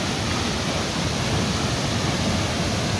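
Tirto Kemanten waterfall on the slopes of Mount Raung in Banyuwangi, East Java, fed by a mountain spring, gives a loud, constant broadband rush of falling water that fills the whole moment without any voices.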